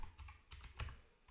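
Computer keyboard typing, quick irregular keystrokes with a few louder clacks, close and fairly quiet, with no talking.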